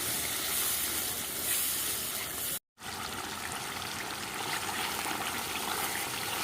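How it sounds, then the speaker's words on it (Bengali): Spice paste for mutton curry sizzles and fries steadily in a pan, with water just added and the mixture stirred. The hiss holds throughout, close and fairly loud, broken once by a brief silent gap. "নেড়ে চেড়ে মশলা কষিয়ে নেব।"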